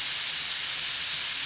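An airbrush sprays paint onto a 1977 Camaro with the trigger pulled fully back, producing a steady, loud, close hiss without pauses.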